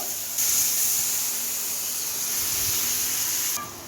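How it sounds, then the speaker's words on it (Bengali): Water poured into fried spice paste in a pan for a fish curry, bursting into a loud, steady sizzling hiss of steam that holds for about three seconds and then cuts off sharply. "মশলাটা ভাজা ভাজা হয়ে গেছে, জল দিয়ে দেব"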